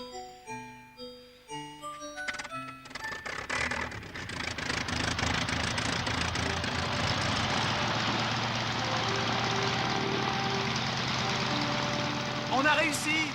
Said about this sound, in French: Flyer One, le premier planeur de l'histoire de l'aviation à être muni d'un moteur actionnant une hélice